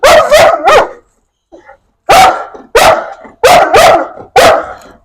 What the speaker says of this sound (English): He was barking for a minute now.